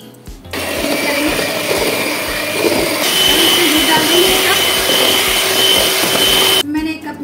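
Electric beater whirring steadily through cake batter with cream, a loud continuous motor drone that shifts pitch slightly midway, starting and stopping abruptly with brief pauses at either end.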